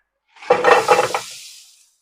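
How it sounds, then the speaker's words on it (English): Sausages drop into a hot pan and burst into a loud, crackling sizzle that quickly settles and tapers off within about a second. "The same pan while it's hot. And throw in some of these sausages here."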